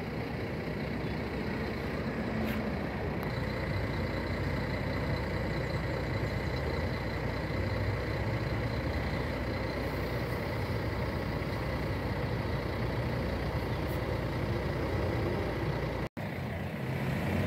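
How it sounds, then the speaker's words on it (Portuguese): A Gontijo intercity bus, arriving from Fabriciano, rumbles at a Governador Valadares bus station as it pulls toward the garage, a steady low diesel drone with faint hiss and background station noise, continuous and fairly distant. "o carro da Contige aí chegou de Fabriciano, está sendo recolhido para a garagem"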